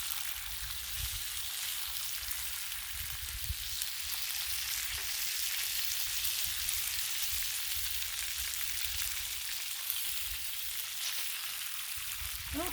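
Bacon sizzles on a Blackstone griddle at a Labor Day breakfast cook, a constant close frying hiss with soft low rumbles and no talking.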